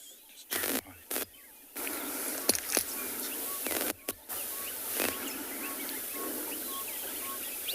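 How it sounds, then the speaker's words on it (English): Birds call across a quiet South African bush landscape near a riverside watering hole on a morning safari, their faint chirps scattered over a steady outdoor hiss with a few brief low thumps. "So nice to kind of just sit here a little bit in silence and listen to all the birds."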